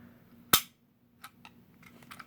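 A Smith and Wesson SD9VE pistol trigger gives one sharp, loud snap close up, followed by a few much fainter, quick clicks as it resets.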